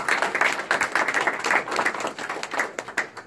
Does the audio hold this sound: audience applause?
yes